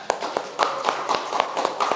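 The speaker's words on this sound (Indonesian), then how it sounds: "kasih tepuk tangan untuk kelompok 3" Short round of classroom applause for a student group after a presentation: a quick, fairly close patter of claps with sharper individual hits, lasting about two seconds with no speech over it.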